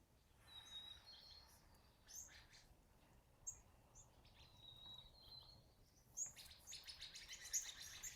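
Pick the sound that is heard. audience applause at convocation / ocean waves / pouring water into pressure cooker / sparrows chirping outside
sparrows chirping outside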